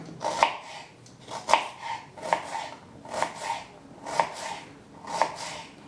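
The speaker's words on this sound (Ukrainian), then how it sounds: "одну невелику цибулю наріжемо кубиком" A knife chops a small onion into cubes on a cutting board, giving steady, fairly evenly spaced thuds about once a second. The strokes sound close and moderately loud, with no talking.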